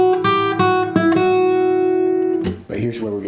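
An electric guitar plays a short, plain blues phrase: a few plucked notes and a chord left ringing, then a couple of quick notes at the end, loud and close with no voice.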